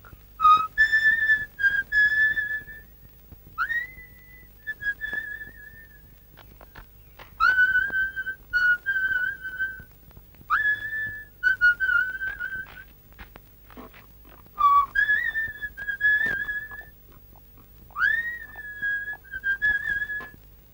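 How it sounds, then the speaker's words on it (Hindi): A person whistles a melodic tune in repeated bright phrases with short pauses between them, near and clear, with no talking over it, in a scene from the Hindi film Rukshat. "सीटी तो तुम बहुत अच्छी बजाते हो।"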